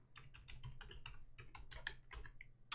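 Rapid keystrokes tapped on a computer keyboard while entering a domain administrator password on a Windows 11 machine, a steady run of close, crisp clicks with no talking.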